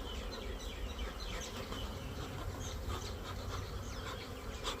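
A swarm of honey bees buzzes continuously and densely around hive frames as a caught swarm is moved from a nuc into an 8-frame hive box, a steady close hum with no talking.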